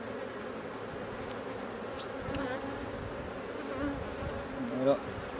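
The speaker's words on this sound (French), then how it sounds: "sans abîmer les abeilles." Honey bees hum softly around a hive frame during an April check of comb construction, a low continuous buzz with a few individual bees flying past nearby.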